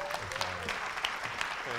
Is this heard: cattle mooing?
no